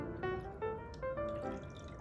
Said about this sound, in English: And then we're going to pour 4 ounces of orange juice.